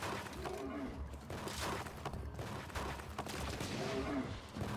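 A compact rocket-launcher-style assault gun in Borderlands 2 firing repeated shots amid a busy, muffled game soundscape, the blasts moderately loud and spaced irregularly over continuous background noise.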